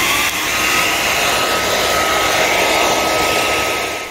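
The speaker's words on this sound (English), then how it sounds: "here's some footage of me actually drying something with the hairdryer" Hair dryer blowing on acrylic paint, a loud continuous whooshing roar with a steady high whine, running alone from start to finish.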